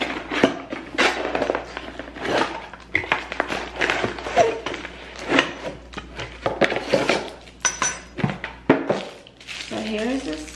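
A Crate & Barrel box of bar tools is opened, with a spoon among them, giving irregular metal clinks, clatters and packaging rustles at close range, and a voice occasionally heard in between.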